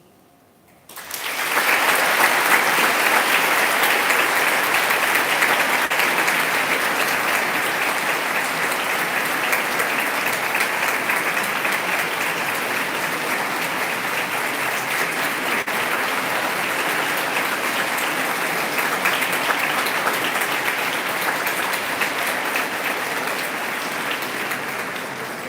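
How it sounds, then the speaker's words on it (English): At the LIMUN 2025 opening ceremony, an audience bursts into applause for the Minister after a brief quiet start, a loud, dense, sustained roar of clapping that stays steady for over twenty seconds. "Please join me in giving a round of applause to the Minister"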